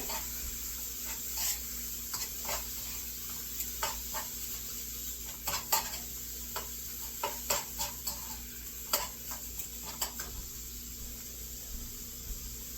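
Beef stir-fries in a pan with a steady sizzle, punctuated by frequent clacks and scrapes of a utensil stirring and tossing the meat; no talking.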